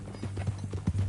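Horse hooves clip-clop at a steady walking rhythm in the Western game Red Dead Redemption 2, close and clear over a low steady hum, with a brief louder thump near the end.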